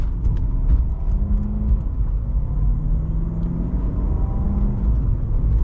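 A 2006 Maserati Quattroporte pulls away in first gear, a steady low engine rumble with a faint droning whir running evenly throughout, heard from inside the cabin with no talking.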